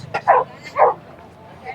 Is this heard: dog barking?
yes